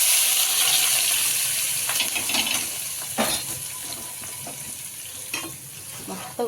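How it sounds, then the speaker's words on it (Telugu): Oil left over from frying onions is poured into a pan for chicken masala curry and sizzles steadily, with occasional stirring scrapes and clinks over a constant hiss. "మనకి ఆయిల్ మనము ఆనియన్ ఫ్రై చేసుకున్న ఆయిలే వేస్తున్నాను అనమాట."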